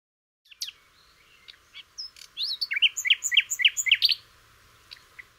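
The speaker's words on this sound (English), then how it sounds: "The nightingale really is a bird with a reputation for song like no other." A nightingale sings a quick run of rich whistles, trills and sharp chirped phrases, close and clear with no other sound, building into a dense rhythmic burst before trailing off.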